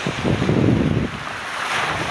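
Waves breaking along a seashore with gusting wind rumbling over the microphone, a louder surge of surf at first, then an even windy wash.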